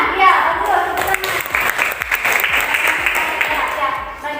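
A group of schoolchildren in an Indonesian classroom claps together in a quick, lively burst, with a few voices mixed in, close and fairly loud.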